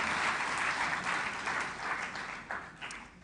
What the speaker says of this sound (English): A round of applause for all that,